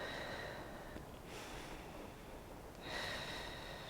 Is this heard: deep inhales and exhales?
yes